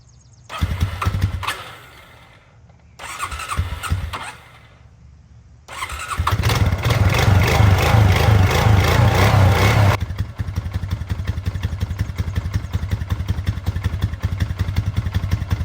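A 2005 Honda Rancher ATV engine cranks in a few short bursts, then catches and runs with a loud, steady mid-pitched idle that settles slightly lower toward the end, with no talking.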